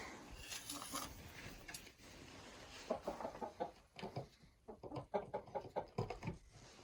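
Chickens in a dim coop on a farm clucking softly, with scattered murmuring calls and rustling close by, quiet and intermittent.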